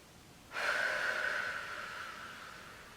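Deep breathing during a beginner Pilates workout on an AeroPilates reformer: a single strong breath starts suddenly and trails off slowly, close and fairly faint, with no talking.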